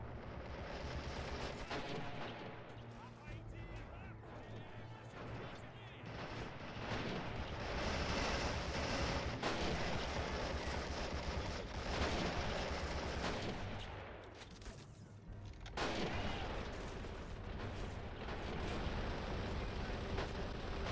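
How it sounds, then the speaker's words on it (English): Dense machine gun fire and explosions from a Men of War battle, loud and continuous with rapid overlapping bursts and heavier blasts, a brief dip near the fifteen-second mark before the fire resumes. "that's a lot of machine gun fire"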